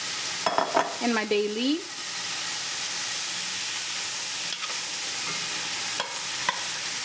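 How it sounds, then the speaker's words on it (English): Garlic, onions and vegetables sauté with Old Bay and bay leaves for Maryland crab soup, giving a steady, even sizzle with a few utensil clicks; a voice speaks briefly at the start. "I'm going to add in my veggies and kind of saute them so they get a little soft."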